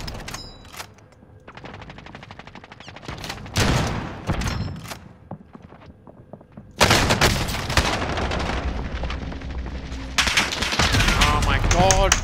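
Bursts of automatic gunfire in a video game, loud and close, with rapid repeated shots coming in clusters and heavier sustained volleys toward the end, firing through brick walls.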